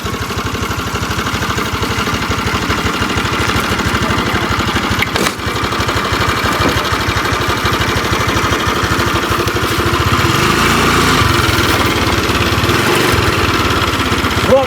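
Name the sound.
Honda Activa scooter engine running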